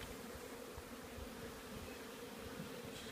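A steady, even drone of many bees fills a hive, a constant close buzzing with small flickers as single bees move nearby and no voices.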